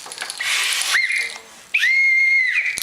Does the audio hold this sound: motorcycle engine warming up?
no